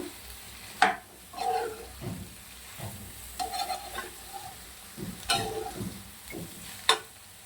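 A spatula stirs broccoli stir-fry in a hot pan, giving repeated close scraping strokes and clatters over a soft steady sizzle, with several sharper knocks spaced through the clip.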